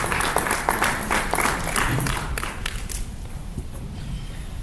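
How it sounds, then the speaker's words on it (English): Audience applause following a presentation at a conference session, dense clapping from a large room that is strongest at first and gradually thins and fades toward the end. "Let's give another round of applause"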